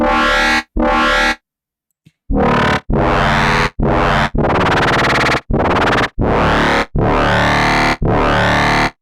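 A synthesizer patch built in DX10 for melodic dubstep plays in distorted, heavily processed bursts: two short stabs, a pause, then a run of sustained, gritty notes with sweeping tone. It is loud and alone, with no voice.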